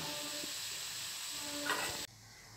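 Leftover idli batter snacks deep-frying in hot oil give a steady, even sizzle and hiss that holds alone for about two seconds, then cuts off abruptly.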